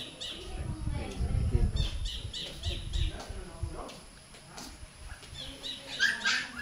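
A puppy whimpers and yelps in short, high squeaky cries over a busy outdoor background, close by, while people talk nearby.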